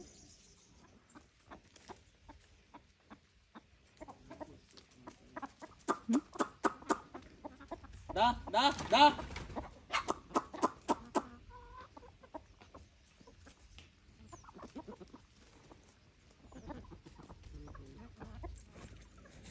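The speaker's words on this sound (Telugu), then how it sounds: "అదిగో ఆ లోపల ఉండే కోళ్ళు కూడా పెడతాయి అనమాట" Several hens in a laying coop cluck in short bursts, with a louder flurry of clucks near the middle, then quieter scattered calls. Close and distinct against a quiet background, with no talk over them.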